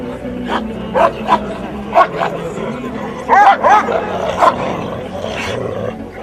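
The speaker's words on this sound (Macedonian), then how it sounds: "пошто овие се машки кучиња, оштри се, да не дојде до некоја несакана ситуација" Male Macedonian shepherd dogs (karaman) at a national breed show give loud, close barks and yips in irregular bursts, several close together, over a murmuring outdoor crowd.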